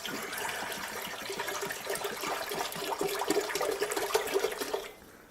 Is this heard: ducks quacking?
no